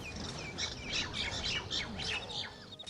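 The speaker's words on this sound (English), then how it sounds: "the bird chirping" Repeated high chirps and tweets of a bird ring out in the video game SpellForce: Order of Dawn, a lively rapid series over a soft steady ambient bed.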